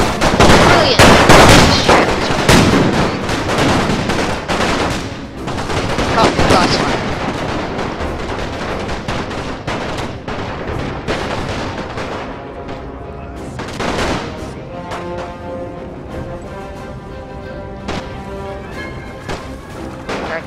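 Artillery booms and crackling volleys of musket and machine-gun fire from a Napoleon Total War Great War mod battle, dense and loud at first, then thinning into scattered shots and distant thuds.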